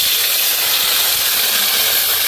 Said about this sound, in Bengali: কোপ্তা করার সময় যে তেলটা বেঁচেছিল ওই তেলের মধ্যেই আমি মশলাটা দিয়ে দিলাম